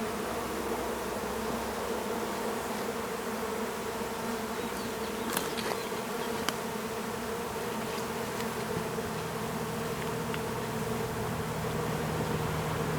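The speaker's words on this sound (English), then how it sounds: "that thing's full of bees now" A large swarm of honeybees on a farm in summer, making a dense, steady buzz that fills the air, with individual bees flying close past now and then.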